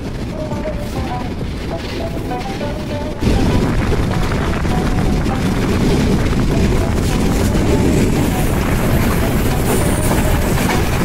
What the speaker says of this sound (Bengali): ট্রেনের সুবিশাল কার্ভ।